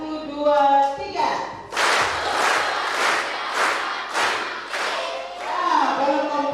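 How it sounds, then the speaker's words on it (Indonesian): A group of children and leaders at an Easter church camp clap together in a series of loud, roughly evenly spaced claps, with crowd voices shouting around them at the start and end. "kita tepuk tangan 5 setengah"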